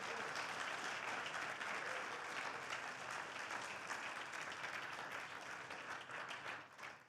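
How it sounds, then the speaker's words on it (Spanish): A church congregation at a Spanish-language service breaks into broad, sustained applause, a thick wash of many hands clapping together that fades slightly toward the end, heard at moderate distance. "Dale un aplauso grande a mi Señor."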